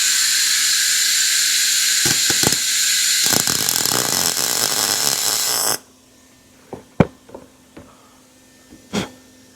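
Welding torch burning through painted sheet metal on a Chevy C10 truck firewall, a loud steady hiss for several seconds that cuts off abruptly, followed by scattered clicks and knocks.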